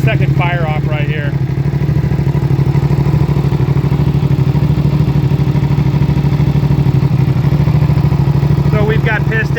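A Suzuki SV650 V-twin motorcycle engine, built to 662cc with new pistons, cams and a slipper clutch, runs loud and close with a steady throbbing idle, while someone talks briefly at the start and end.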